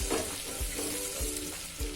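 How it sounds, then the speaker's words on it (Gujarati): Sizzling in a hot pan as coriander-cumin powder and garam masala are stirred, a spoon scraping in steady strokes about every half second, close up with no talk. "બધું સરસ મિક્સ કરી દઈશું."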